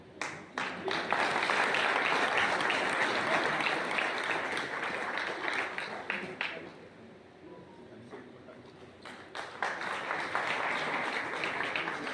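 Sustained audience applause at a ceremony honouring Morena police officers, dense clapping that dips briefly midway and then swells again, with faint talk underneath.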